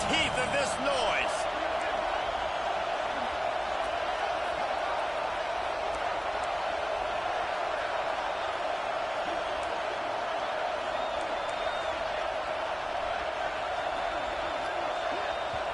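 Roaring stadium crowd at a football game near the goal line, a dense, constant wall of cheering and noise that stays loud from start to finish.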